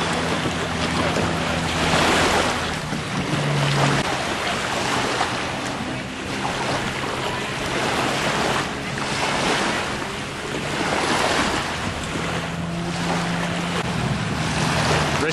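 Waves, sea and a 10 to 12 knot wind around sailing dinghies at Nedlands Yacht Club, with steady surf washing and gusting wind buffeting the microphone in rolling surges throughout.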